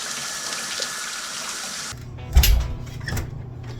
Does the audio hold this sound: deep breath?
no